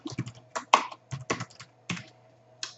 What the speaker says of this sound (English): And then you're going to type your message.